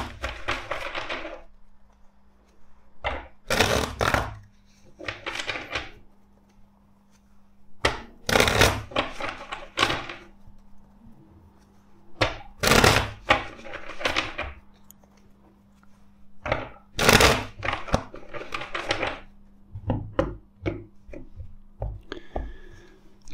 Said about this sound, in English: let's shuffle the deck four times for you.